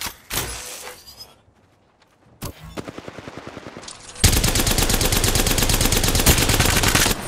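Apex Legends gunfire, with scattered shots and a short spaced burst giving way to loud, sustained rapid automatic fire that runs to the end.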